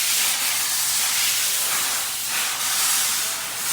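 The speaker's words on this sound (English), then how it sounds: "we can use some brake cleaner" Brake cleaner aerosol sprays in a steady, loud, continuous hiss, cleaning up after a brake system flush, with slight pulsing where the nozzle is pressed and released.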